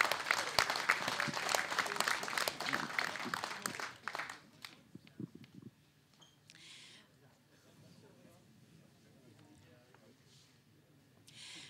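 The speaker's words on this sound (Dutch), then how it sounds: "Applaus." A studio audience at a local political debate programme in Hilversum applauds loudly for about four seconds, then the clapping drops away into a quiet room with faint scattered sounds.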